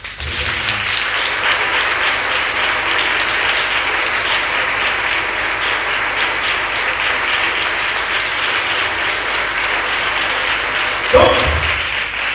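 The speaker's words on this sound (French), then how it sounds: "Acclamez pour le Seigneur." A church congregation applauds for the Lord, a loud, steady wash of clapping that lasts throughout, with a brief thump near the end.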